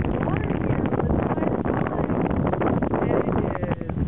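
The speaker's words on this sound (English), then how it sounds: "And it is very windy and cold." Strong, cold wind gusts across a clay beach at Mont Saint-Michel when the tide is out, a dense, steady roar of buffeting against the microphone that never lets up.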